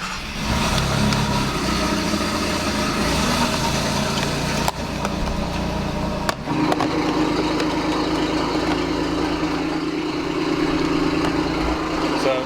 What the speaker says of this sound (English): It's going to be a cold start on a Giulia Quadrifoglio with catless downpipes and a TFL X-pipe in the midsection, stock rear section.